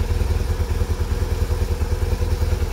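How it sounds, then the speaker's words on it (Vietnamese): A motorcycle engine runs just after a cold-morning start, a close, loud, steady chugging idle with a fast, even pulse and no talking. "Trời sáng lạnh quá, nổ mới nổ máy cái là nó lên khói trắng"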